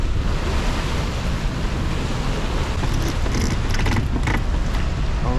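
Steady wind roars across a sailboat running downwind at sea under engine and mainsail in 15 knots of wind, a constant loud rushing mixed with wash of waves and faint creaks of rigging, with no voices.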